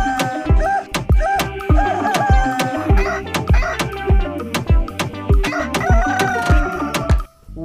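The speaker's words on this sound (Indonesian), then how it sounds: "Wow, ayam jago." Loud rooster crowing calls repeat over a fast, regular thumping beat, heard up close. The warbling crows rise and fall again and again without pause, and there is no talking.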